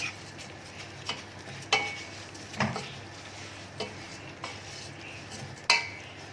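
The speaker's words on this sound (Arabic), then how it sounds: "هنفضل نقلب لحد ما الشعريه تاخد اللون الذهبي" Vermicelli and onions frying together in a pot, with a steady low sizzle and occasional scraping, clinking strokes from a spoon as they are stirred.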